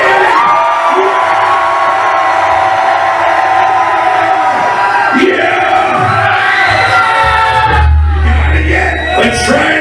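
A live podcast audience screaming, whooping and cheering together in one loud, sustained crowd roar with a few individual yells rising above it.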